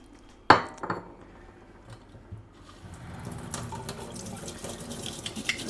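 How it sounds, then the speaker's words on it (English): A bowl clinks in a kitchen sink, then tap water runs steadily and splashes as the bowl is rinsed, close and moderately loud with faint dish clatter. "I'm just gonna rinse out my bowl."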